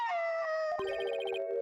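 A dog in the Apollo Justice video game lets out a long, wavering howl, breaking midway into a series of rising yelps and whines, loud and alone with no talk.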